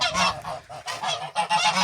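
Geese honk loudly and close in a rapid series of harsh calls, overlapping one another without pause.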